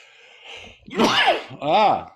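A single sneeze, a short breathy intake followed by a sharp burst and a trailing voiced tail, close to the microphone and quiet in an otherwise still room.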